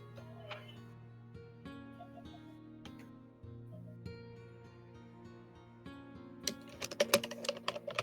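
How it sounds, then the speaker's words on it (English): Computer keyboard typing comes through an online voice chat, scattered light clicks giving way to a rapid, louder burst of keystrokes near the end, over a soft steady tonal background. "Your typing's loud."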